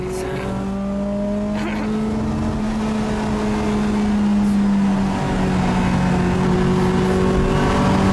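A Peugeot 208 Racing Cup car engine drones steadily at high revs around the Magny-Cours circuit, pitch holding and shifting slightly as it drives, loud and continuous with no talking.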